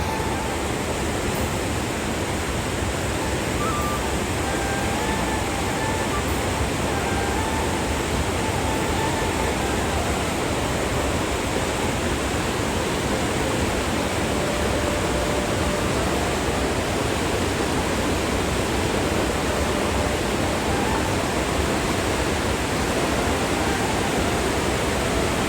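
A mountain stream on the Shey Phoksundo trek in Nepal's hills rushes continuously, a loud, even broadband roar of flowing water that holds steady for the whole stretch, with faint bird notes above it.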